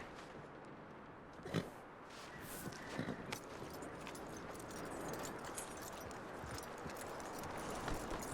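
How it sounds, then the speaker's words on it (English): Horse hooves clip-clopping in the Western video game Red Dead Redemption, soft irregular footfalls over a quiet ambient bed with a few sharper knocks. "That looks like a decent horse."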